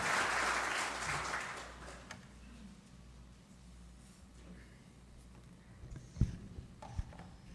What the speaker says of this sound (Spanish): un voto de aplauso para recibir al ingeniero Roque.